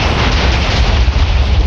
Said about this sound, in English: You want an explosion? There you go.